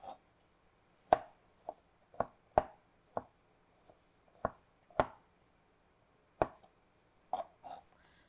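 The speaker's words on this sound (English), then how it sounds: "we're just gonna chop them up into a very rough but very fine, you know, chop, almost a mince" A knife chops mushroom stems finely toward a mince on a board, in about a dozen sharp, close taps, spaced irregularly and alone.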